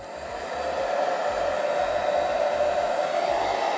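A Hot Tools Quiet Air Pro hair dryer on its lowest speed blows a steady, close whooshing hum with an even airy hiss, running alone for a few seconds.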